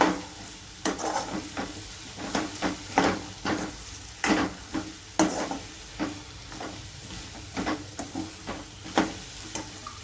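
Drumstick pods being stirred and sizzling in a pan while cooking a Maharashtrian shevga curry; steady frying hiss broken by repeated scraping stir strokes at an uneven rhythm, close by, with no talking.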